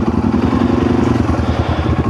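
A 2013 Yamaha TW200 motorcycle running on a trail, its engine a loud, close, steady thumping chug with a rough mechanical rattle.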